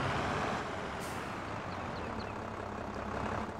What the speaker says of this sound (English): it's that downshifting that gets you